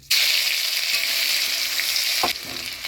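Ginger tipped into hot oil for tempering bursts into a loud, steady, close sizzle that holds evenly, then briefly dips near the end before resuming.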